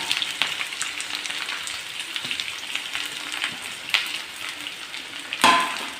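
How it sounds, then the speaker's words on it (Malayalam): Chopped onions and green chillies sauté with coconut in a pan, giving a continuous crackling sizzle with scattered spatters and a sharper stirring scrape near the end. "ഇനി ഇത് ഒരു വിധം ഒന്ന് വഴറ്റിയെടുക്കണം"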